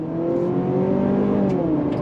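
A 2024 Honda CR-V Sport compact SUV with a CVT accelerates on throttle. Its engine gives a steady, close hum that rises gently and continues for about two seconds without pause.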